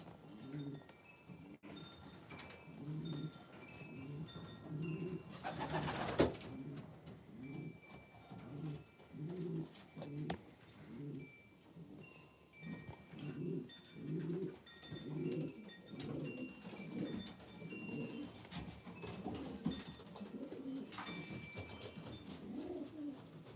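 Racing pigeons in a loft give repeated soft throaty coos in a regular rhythm, with scattered light clinks and a brief flutter of wings partway through, moderately close and fairly quiet.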